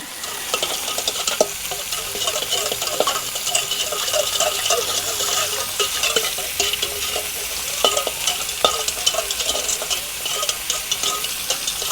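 Chilli crab mixture is stirred in a hot pan, a continuous close sizzle broken by repeated scraping and clacking strokes of the utensil.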